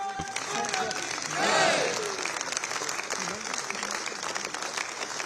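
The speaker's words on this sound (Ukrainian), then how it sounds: "Законодавці аплодували стоячи" Parliamentary lawmakers give a standing ovation, a continuous wash of clapping with a brief rising cheer in the middle, heard under a voice speaking over it.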